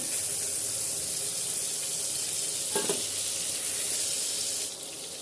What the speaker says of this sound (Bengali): হালকা করে ভেজে নেব মাছগুলোকে দু পিঠটাই হালকা করে ভেজে নিলাম